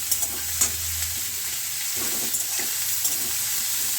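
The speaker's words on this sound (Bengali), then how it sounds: "কড়াইয়ে কালো জিরে সর্ষের তেল ফোড়নে দিয়ে পটল আর পেঁয়াজগুলোকে খুব ভালোভাবে ভেজে নেব" Pointed gourd and onion frying in mustard oil with black cumin in a wok make a steady close sizzle, broken by a few scraping stirs and soft knocks of a spatula. No voices.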